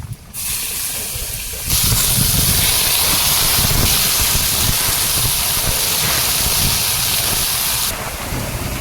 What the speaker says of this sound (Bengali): তেলে একটুখানি পাঁচফোড়ন দিলাম আর পাতাটা একদম ভালো করে ভেজে নিয়েছি তো কমে যাবে এবারে দেবো বেগুনটা